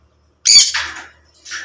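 A pet bird gives a sharp, loud squawk during trick training, followed by a softer second call about a second later, close to the listener.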